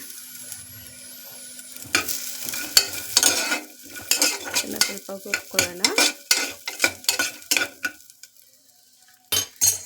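Green chilies and fresh grated coconut fry in a pan while a spoon stirs them, giving rhythmic scraping and clinking bursts over a soft sizzle. No voices.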